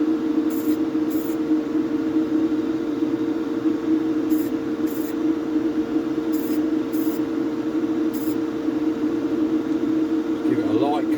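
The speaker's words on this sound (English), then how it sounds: "Give it a quick test spray." Spray paint hisses as a test spray goes onto a 1961–64 Corgi Fiat 2100 die-cast toy car being restored, a steady close aerosol rush running throughout, with a faint hum underneath and a few short clicks.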